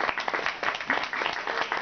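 A short burst of steady applause from an audience in Tandil greets a guitarist, dense clapping at even loudness throughout.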